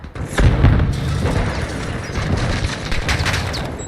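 A stun grenade detonating in the Call of Duty MWII multiplayer beta, a loud low boom that sets off a dense, rumbling burst of battlefield noise and crackling debris lasting several seconds.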